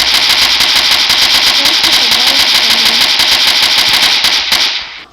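Rapid automatic gunfire from a gun mod in Minecraft PE, a loud continuous burst of fast repeated shots that runs almost the whole time before cutting off abruptly near the end, with no talking.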